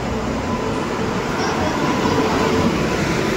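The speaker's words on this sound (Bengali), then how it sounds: "দেখুন আমাদের ট্রেন চলে এসেছে" Passenger train pulling into a platform, a steady broadband rumble of wheels and carriages close by, continuous and loud with no clear voices.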